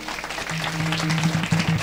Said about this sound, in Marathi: एकदा तुमच्यासाठी जोरदार टाळी वाजवा